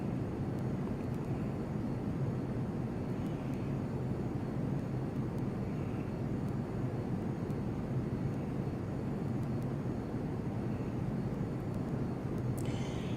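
A simulated aircraft flies over Hawaii in the Prepar3D v2 flight simulator, a steady, continuous engine drone with a low rumbling body that holds at an even level throughout, with no voices.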